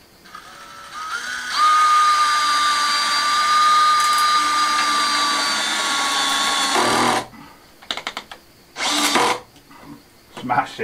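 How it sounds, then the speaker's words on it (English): A power screwdriver drives screws into wood while renovating an old Spanish farmhouse, a loud, steady motor whine held for several seconds, then a few shorter bursts after a pause, close up, with someone talking briefly. "I'll just have to hold it and screw it and stick some screws in it"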